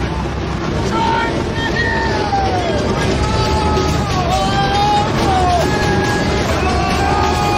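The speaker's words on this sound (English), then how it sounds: "Feeling the power of that upgraded Detroit engine with the turbo on it that Andrew rebuilt was well worth it." Boat powered by an upgraded turbocharged Detroit engine, running with a steady loud roar mixed with rushing water and wind buffeting, while voices call out over it.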